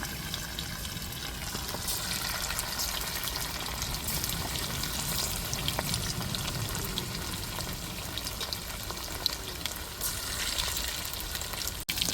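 Leftover chicken pieces deep-frying in oil, a steady close sizzle and bubbling crackle running unbroken throughout, with a small clatter at the end.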